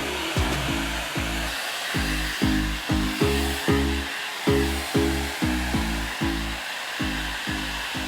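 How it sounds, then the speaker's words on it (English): A steady broadband blowing roar, like a hair dryer running close by, over a pulsing low rhythmic beat of background music. "I'm gonna give it another shot with a hair dryer."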